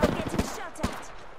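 Rapid gunfire bursts in the Apex Legends battle royale, a few sharp cracks in quick succession with a louder shot near the end, close and punchy.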